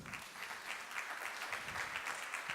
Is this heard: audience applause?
yes